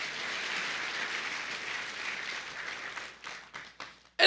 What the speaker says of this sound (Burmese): လက်ခုပ်တီးပြောက်ချီးမွမ်းရအောင်